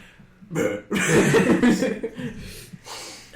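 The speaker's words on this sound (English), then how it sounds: "I should still love the freaking burp mid sentence" A loud, close burp comes out mid-conversation among a group of men, followed by chuckling and laughter.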